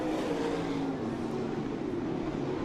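Race cars roaring past on a Southern Ontario speedway oval, a continuous loud engine drone with shifting pitch as the cars sweep by, heard from trackside without talk.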